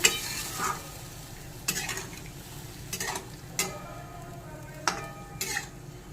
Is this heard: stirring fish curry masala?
yes